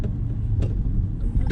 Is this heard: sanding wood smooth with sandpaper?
no